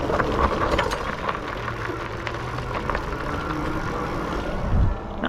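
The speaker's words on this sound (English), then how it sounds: "You can still hear the tires kind of zipping along on the ground" Fat tires of a Rad Power Bikes RadRover 5 electric bike roll over smooth parking lot pavement, producing a steady, close whir and rumble with no breaks.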